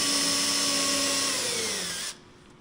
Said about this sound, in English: Then we get one more hole here to drill